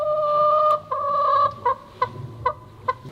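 A hen clucks inside a mirror maze, first with drawn-out tonal calls and then with several short, separate clucks at a steady rhythm. The calls are close and clear over a quiet background.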